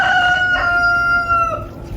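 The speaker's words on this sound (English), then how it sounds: "There's the cockerel." A cockerel crows once, a long drawn-out call that trails off, fairly close in an off-grid chicken yard, with a low background rumble and no talk.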